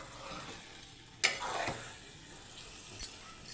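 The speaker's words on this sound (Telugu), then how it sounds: "ఇక్కడ వచ్చేసి ఆయిల్ పెట్టాను, ఇక్కడ వచ్చేసి వడియాలు ఎంచుతున్నాను" Vadiyalu, sun-dried fritters, frying in hot oil in a home kitchen: a steady close sizzle with a sharp crackling burst early on and a smaller spit near the end.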